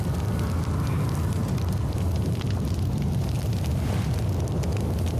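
A character burns in fire in the video game The Outer Worlds, giving a loud, steady roaring crackle with a dense low rumble that holds without a break throughout.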